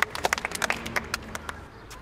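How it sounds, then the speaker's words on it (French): A few scattered claps from a small group, brief and uneven, fading out after a couple of seconds. "Applaudissements, Sophie."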